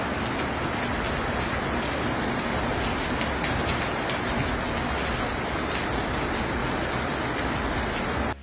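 Heavy typhoon rain pours in a dense, unbroken hiss and patter, loud and even throughout, with no voices.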